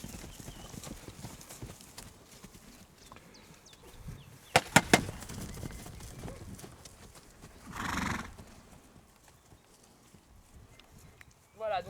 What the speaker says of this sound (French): les chevaux ont un réflexe de fuite, puis ils se retournent vers l'objet de la surprise pour analyser